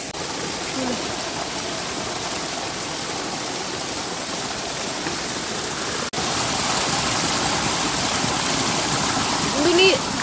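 A roadside waterfall rushes steadily, its broad constant roar filling the scene without pause. It is loud and near, with a brief knock partway through and a slight swell near the end.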